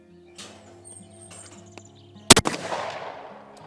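A shotgun fires at clay targets on a hunting-licence shooting course, giving one sharp, loud blast with a quick double crack that rings out and decays over a quiet outdoor background.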